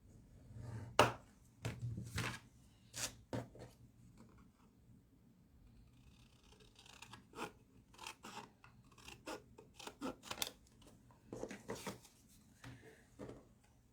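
Scissors snip paper being cut for a craft pasting project, with scattered sharp clips and rustling handling sounds close by in a quiet room, separated by brief pauses.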